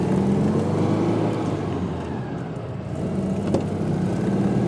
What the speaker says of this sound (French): on lâche le frein et la voiture s'en va